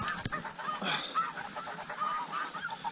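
A flock of snow geese honks continuously on a frosty morning hunt, many overlapping calls of varying distance forming a busy, noisy chorus with no talking.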